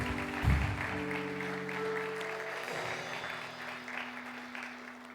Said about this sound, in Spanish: Dale un fuerte aplauso a Jesús en este día